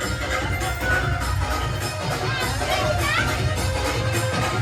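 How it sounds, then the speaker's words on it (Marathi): Children cheer and shout together at a Ganpati festival, a dense noisy crowd din with excited voices rising over it, close and continuous. "पोरांचा जल्लोष बघू शकता तुम्ही"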